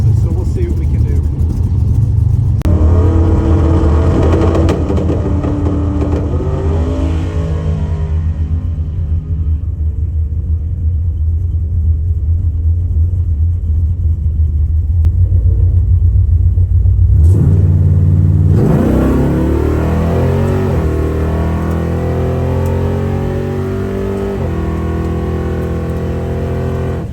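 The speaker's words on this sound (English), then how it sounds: "So we're in the lanes, getting ready to make our first pass." A drag race car in the lanes at a Michigan Drag N Drive event idles with a deep rumble, then its engine surges loudly through rising revs as it launches down the strip, with a person talking over it.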